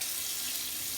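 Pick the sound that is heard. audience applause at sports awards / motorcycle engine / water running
water running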